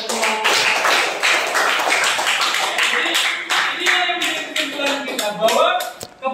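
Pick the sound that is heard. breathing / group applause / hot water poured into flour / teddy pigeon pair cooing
group applause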